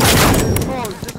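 A shotgun blast rings out in the tactical shooter game Firewall Zero Hour, a loud close boom that decays quickly, with a voice briefly speaking underneath.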